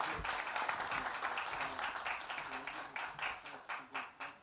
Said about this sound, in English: Won't you give Gosia a big round of applause?